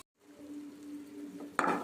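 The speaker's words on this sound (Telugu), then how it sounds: "చూసారా ఉప్పు పసుపు వేయటం వల్ల మనకి తొందరగా వేగిపోతుంది అన్నమాట ఉల్లిపాయ" Onions frying in a pan with salt and turmeric, giving a soft steady sizzle that ends in a brief louder clatter of stirring near the end.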